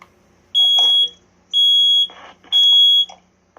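A First Alert 9120B smoke alarm under test, sounding three loud, piercing high-pitched beeps in an even on-off pattern, each about half a second long, with faint rattling between them.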